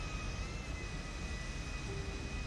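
A private jet cruises in the GTA NoPixel game, a steady broadband engine roar with a faint high whine held evenly throughout, continuous and moderately loud with no breaks.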